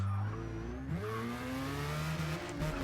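Car engines in a racing video game rev and shift pitch, a droning whir of several motors racing close by, with no one speaking.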